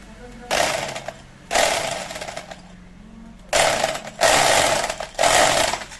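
A hammer drill chatters through tile in four loud bursts of rapid hammering, separated by brief pauses with quieter motor whir.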